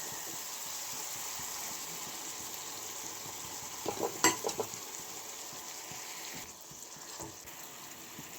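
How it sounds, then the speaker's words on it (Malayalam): Curd stirred into frying ginger-garlic masala in a pan for a chole curry: a steady, close sizzle with scraping stirring strokes, a brief cluster of louder clinks and splashes midway, then continued frying. "ഒരു 10 സെക്കൻഡൊക്കെ ഇളക്കിയാൽ മതി."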